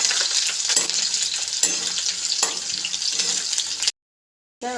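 Onion, curry leaves and dried chilies fry noisily in a pan with a close, continuous sizzle and occasional stirring scrapes, cut off abruptly near the end.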